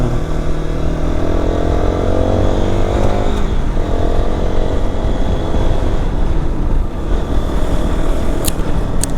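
A motorcycle rides through hilly terrain, its engine droning loud and close with a steady, rough roar and shifting tonal layers, wind noise mixed in, no talking.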